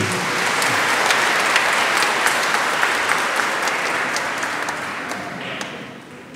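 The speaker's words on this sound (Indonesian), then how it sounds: "Tepuk tangan untuk adik-adik kecil ini." A church congregation claps for a group of small children called up front, a full, loud burst of applause that stays steady before thinning out toward the end.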